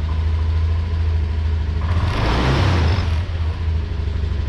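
A Honda BeAT scooter engine idles with a low steady rumble, then gets a brief light blip of throttle that swells into a short rev before settling back to idle.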